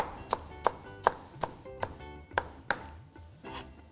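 A knife slices white cabbage and leeks on a board in a steady run of about nine crisp, evenly spaced cuts, close and clear with no talk.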